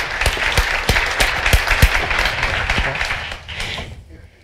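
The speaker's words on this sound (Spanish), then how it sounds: "un aplauso para él" Applause from a live audience at a talk on science and technology magazines, with several sharp individual claps standing out over a dense patter that dies away over about four seconds.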